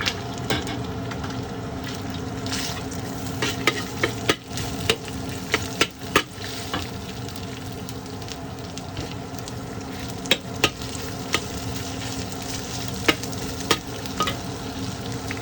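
Minced garlic sizzles in a hot pan for an eggplant and minced pork dish, with a constant frying hiss broken by frequent scraping and clinking stirs.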